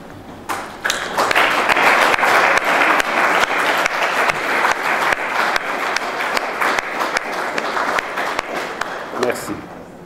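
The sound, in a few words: applause for West and Central African countries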